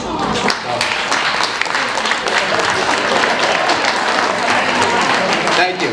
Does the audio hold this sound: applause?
yes